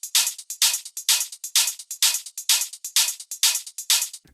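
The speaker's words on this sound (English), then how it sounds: "It's literally just 2 open hi-hats layered by different envelopes and some closed hi-hats" Two open hi-hat samples layered with different envelopes over closed hi-hats on 16th notes in an electronic track: crisp, bright metallic hits in a tight, even, repeating rhythm with short decays, loud and alone.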